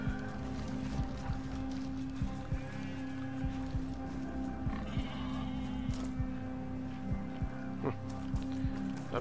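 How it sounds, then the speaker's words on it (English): A goat bleats in a few brief calls in Ghost Recon Breakpoint, heard over a steady engine-like hum with faint hoof-like clicks and scattered game noises. "Pig and a goat on a hill, there you go."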